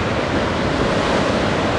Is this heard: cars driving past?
no